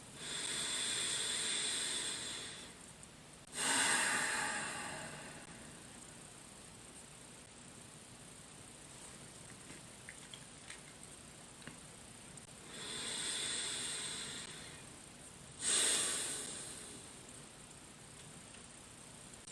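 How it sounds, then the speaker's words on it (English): Slow meditative belly breathing through the nose: two airy hissing breath cycles, each a soft inhale followed by a stronger exhale, close and quiet with long pauses between them. "In the nose, out the nose, belly breathing."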